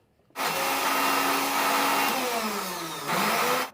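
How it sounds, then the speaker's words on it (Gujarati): A loud mixer grinder whirs steadily at close range, grinding peanuts without water, for about three seconds, briefly dips, then surges again before stopping. "આટલી વસ્તુને આપણે પાણી નાખ્યા વગર જ પીસી લેશું"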